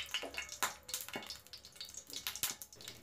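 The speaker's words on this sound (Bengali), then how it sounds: "দুটো এলাচ দিয়ে দিলাম একটু নাড়াচাড়া করে, যাতে এলাচের গন্ধটা ঘিয়ের সাথে মিক্সড হয়ে যায়, তাই একটু নাড়াচাড়া করে নিচ্ছি" Two cardamom pods are stirred in hot ghee in a pan for carrot halwa. Soft sizzling runs under irregular scraping and clicking strokes, quiet and close, with no voices.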